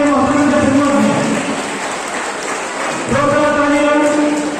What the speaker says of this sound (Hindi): तमाम बच्चों से गुजारिश है कि जोरदार तालियां बजनी चाहिए